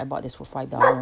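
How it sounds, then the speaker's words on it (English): A dog barks in short, close, loud bursts mixed with whimpering yips, heard together with a man's speech over the top. "That's my dog. I think he wants to go out in a minute."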